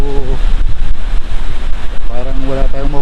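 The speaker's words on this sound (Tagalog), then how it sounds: "medyo malakas ang hangin" Strong wind gusts roar against the microphone beside the sea at Naujan, Mindoro, Philippines, with a voice heard briefly at the start and near the end.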